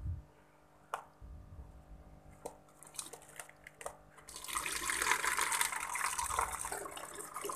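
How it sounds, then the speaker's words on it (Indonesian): Water is poured into a container for hatching artemia. A few soft knocks and taps come first, then a steady close splashing pour begins about halfway through and continues to the end. "Oke, mulai kita tuangkan airnya."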